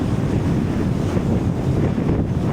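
Strong ocean waves during a shore fishing trip roar as a steady, loud broadband wash, heavily mixed with wind buffeting the microphone, and no voices are heard.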